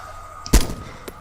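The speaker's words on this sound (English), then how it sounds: "I might just take a pot shot at a few, because it seems as no matter how much I'm shooting" A single sharp gunshot from ArmA 2: Operation Arrowhead, during a night operation. One loud crack with a short tail, then quiet, with a faint second report near the end.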